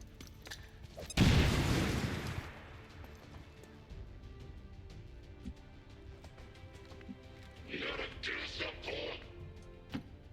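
A frag grenade in XCOM 2 detonates with a loud, deep boom and rumbling blast that fades over a second or so, followed by quieter in-game sounds and a brief burst of crackling activity.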